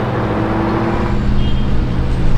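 A black Lamborghini Performante driving past, a loud, steady engine roar and road noise close by that swells slightly toward the end.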